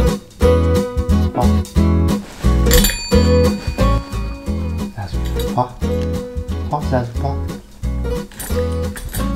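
A bell is rung repeatedly by a German Shorthaired Pointer or Labrador Retriever dog asking for treats, loud metallic dings in an irregular rhythm, with a person talking and praising throughout.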